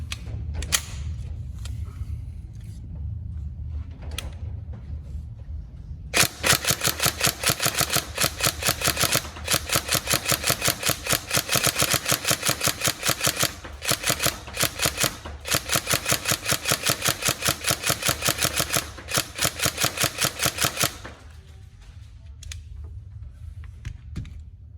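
A Tokyo Marui MP5A5 NGRS airsoft electric gun test-fires 3.2 g BBs, producing long bursts of rapid, evenly spaced mechanical clatter with brief pauses, loud and close, over a low background hum.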